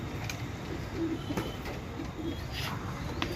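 Pigeons coo during evening training flights under lights, soft low cooing calls repeating a few times over a steady background hum, nearby and moderately faint.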